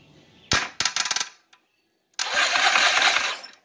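Sharp clicks from a Yamaha XS650 starter solenoid as a wire touches ground: a loud snap, then a fast rattle of clicks and one faint tick, a pause, then a sustained buzzing chatter lasting over a second, close and with no talk.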